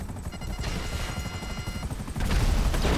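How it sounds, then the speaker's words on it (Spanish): A helicopter in GTA Online thrums with a dense, rapid rotor chop that grows louder near the end, mixed with gunfire-like bursts and crashing game sounds; no talking. "ya traigo un pinche helicóptero que me cuesta un buen controlar"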